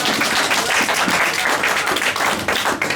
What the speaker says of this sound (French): Et nous applaudissons pour le Seigneur. Applaudissons pour Jésus